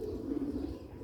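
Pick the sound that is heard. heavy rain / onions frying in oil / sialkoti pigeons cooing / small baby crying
sialkoti pigeons cooing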